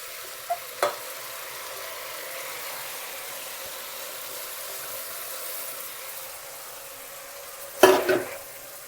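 Washed rice stirred into hot oil tempering for akki uppittu gives a faint, steady sizzle, with a short scraping stir in the pan near the end and a couple of light knocks earlier.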